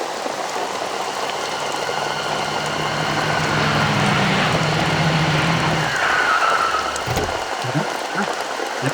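Rain falls steadily in a continuous, even hiss that fills the whole stretch, with a faint low rumble rising near the end.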